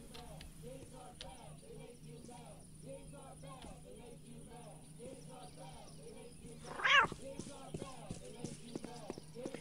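A cat in the Postal 2 video game meows several times in short repeated calls, followed by a louder, harsher yowl, all under a low steady background hum with no talking.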